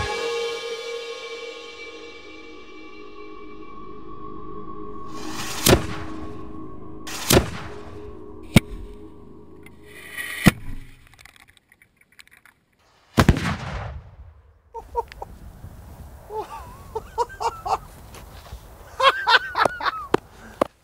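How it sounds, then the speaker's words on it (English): An English Civil War–style black-powder cannon fires outdoors in a loud, booming blast with a long rolling echo, followed by several more sharp reports and cracks, with voices around it. "The gun is now loaded, primed, and ready to fire."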